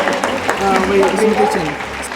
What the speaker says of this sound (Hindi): आप अपने लिए जितनी तेज तालियां बजा सकते हैं